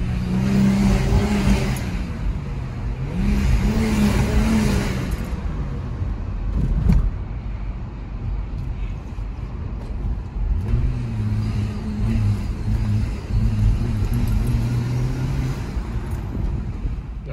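An Audi S4 B5 with a P1557 fault runs at full throttle but bucks and refuses to pull, its engine droning loud and close while the pitch surges and sags unevenly instead of climbing smoothly.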